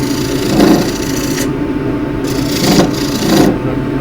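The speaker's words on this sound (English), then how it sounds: "Now I'm going to transfer to a scraper. And another very elderly tool." A wood-turning scraper cuts across a spinning nine-sided wooden plate on a lathe, a loud steady rough rubbing hum broken by brief swells and gaps as the tool meets the work.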